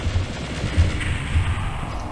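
A rocket launcher fires in the video game Doom 64, heard as a short run of deep, rumbling thuds that repeat at a steady pace under a loud continuous roar.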